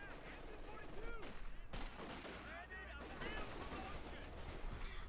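Machine gun and rifle fire crackle through a Company of Heroes 2 battle, with grenadiers on the field, as bursts and scattered shots repeat steadily under a commentator's continuous talk.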